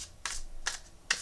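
Tarot cards are shuffled in three quick, crisp riffling bursts spaced evenly apart, close and fairly soft in a quiet room.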